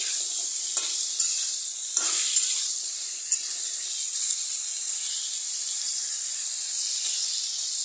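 Masala chicken frying in a pan over a high gas flame, a steady bright sizzle and hiss running throughout with a few sharp clicks of stirring, close and continuous.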